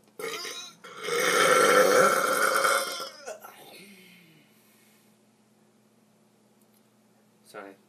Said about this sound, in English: One more burp.